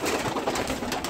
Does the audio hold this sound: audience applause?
no